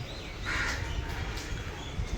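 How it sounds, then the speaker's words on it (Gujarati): Crows caw outdoors, a few harsh calls rising over a low background rumble at moderate distance. "એકલા કાકડા જ આવે છે."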